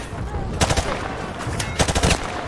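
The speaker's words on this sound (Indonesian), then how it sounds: "Ada yang nembak." Two rapid bursts of automatic rifle fire from the M4 in Call of Duty Modern Warfare, loud and close, over steady game background noise and a faint voice.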